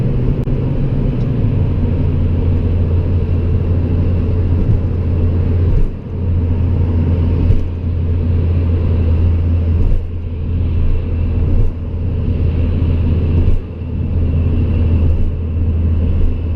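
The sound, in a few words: car driving on road, vehicle passing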